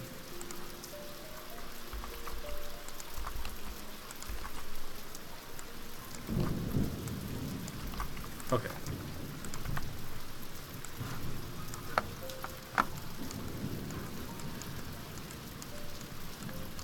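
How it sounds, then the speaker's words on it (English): Steady rain pours throughout a stormy scene in the video game Stonehearth, with low thunder rumbles swelling midway and a few sharp crackles. Someone briefly speaks once. "Let's start with making sure that it's raining all the time."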